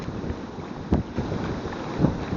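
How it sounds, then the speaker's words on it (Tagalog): Strong wind buffets a microphone outdoors near the water, a steady broadband rush with a few louder gusts thumping through. "Yan, malakas na yung hangin."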